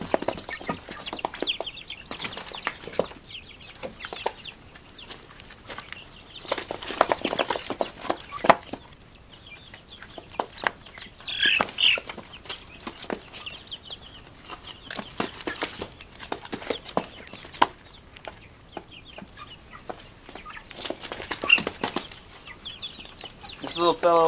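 Meat chickens at feeding time cluck and squawk continuously and up close, with bursts of wing flapping and scuffling as the flock crowds the feed.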